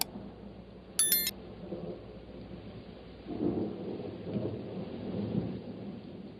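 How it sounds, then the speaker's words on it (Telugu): Thunder rumbles low and steady through a storm, with a brief sharp high tone near the start and a louder rolling swell in the second half, no voices. "మన ముందు తుఫానుంది చూడు."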